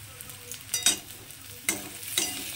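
Ginger paste sizzles gently in a pan and is stirred, with a steady frying hiss under several sharp scraping strokes, close and fairly quiet, without speech.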